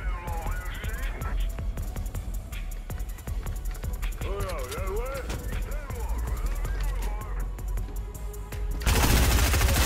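Rapid video game gunfire rattles in dense bursts throughout, mixed with game effects and a voice talking, ending in a louder burst of noise.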